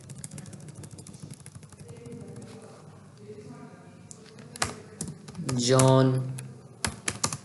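Rapid, close computer keyboard typing while entering a C program clatters steadily, with a spoken word partway through and a louder burst of keys near the end.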